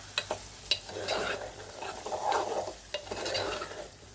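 Drumstick and onion curry seasoned with salt and chili powder is stirred in a pan, giving soft scraping and mixing with a few sharp spoon clicks over a low background sizzle, close and moderately quiet.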